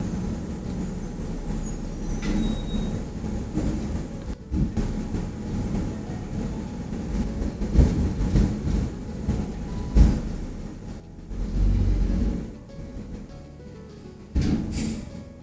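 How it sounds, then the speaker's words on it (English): Garbage truck passing outside a home, a low diesel rumble that rises and falls with hissing air brakes and clanks, muffled through walls at moderate distance. "And the trash truck always comes when I'm filming."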